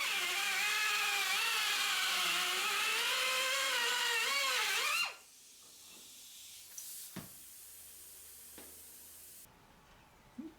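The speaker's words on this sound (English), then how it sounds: "Great little pneumatic beveler." A pneumatic beveler cuts a chamfer in metal, giving a loud steady air-driven whine with a wavering pitch for about five seconds before it stops abruptly, followed by faint clanks and handling sounds.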